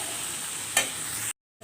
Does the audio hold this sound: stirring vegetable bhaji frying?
yes